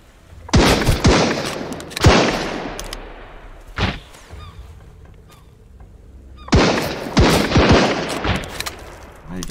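Bursts of rapid gunfire in the video game Sunkenland, loud and close, with clusters of sharp shots around an isolated single shot, separated by brief lulls.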